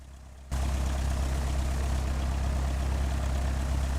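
Cessna piston engine in the FSX flight simulator idles while taxiing, kicking in abruptly after a half-second of quiet and then holding a steady low droning rumble.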